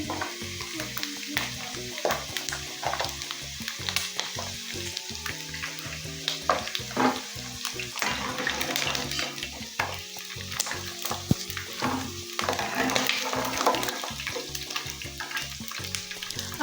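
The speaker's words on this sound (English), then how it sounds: "I fry until golden" Chicken gizzards frying in hot oil, giving a steady, busy sizzle with crackles and pops that carries on throughout at a close, moderate level, with no one speaking.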